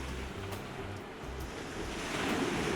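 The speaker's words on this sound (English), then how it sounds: "the crashing of the waves" Ocean waves crash and wash steadily onto a beach, a continuous broad rush with surging swells that grow louder toward the end, heard alone with some wind.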